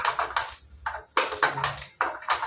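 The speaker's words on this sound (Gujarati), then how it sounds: "હવે ગેસ ચાલુ કરીએ." A butane lighter clicks again and again while trying to light a gas stove for ginger tea, the lighter damp from rainy weather; about seven sharp, close clicks come in a ragged rhythm.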